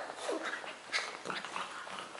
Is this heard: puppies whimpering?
yes